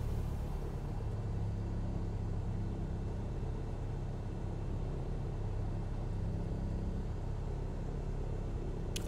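A simulated aircraft engine in Microsoft Flight Simulator 2020 drones as a steady, loud low rumble that stays even for the whole stretch, with no distinct cranking or catch.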